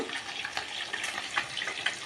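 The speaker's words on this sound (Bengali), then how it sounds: "এই যে মাছ ভাজা হচ্ছে, কাতলা মাছটা ভাজছি।" Pieces of catla fish sizzle and spit in hot oil in a pan, a continuous close crackle with small sharp pops scattered throughout.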